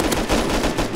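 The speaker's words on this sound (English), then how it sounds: "Why are you shooting at us?" Loud, dense gunfire in the video game Rust, rapid overlapping shots forming a continuous burst throughout, close and harsh with no talk.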